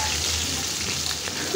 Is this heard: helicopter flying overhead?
no